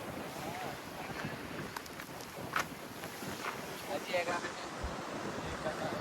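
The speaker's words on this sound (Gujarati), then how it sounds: "મસ્ત પવન આવે છે, ઠંડો ઠંડો" Cool wind blows hard across the microphone outdoors near the sea at Porbandar, a dense, continuous roar with faint distant voices mixed in.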